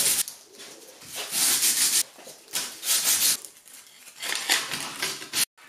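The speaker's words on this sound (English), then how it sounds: "I use 80 grit sandpaper and grind." Hand sanding of composite leading edge slats for a Su-XR model aircraft with 80 grit sandpaper, heard as repeated rough, hissing back-and-forth strokes in bursts, close and fairly loud with brief pauses.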